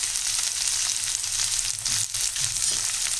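Onion, garlic and tomato sauté in a pan with a loud, continuous close sizzle and a faint scrape now and then.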